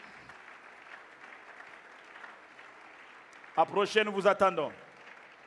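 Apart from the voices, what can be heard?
congregation cheering and applauding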